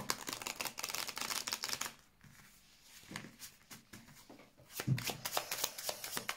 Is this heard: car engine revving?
no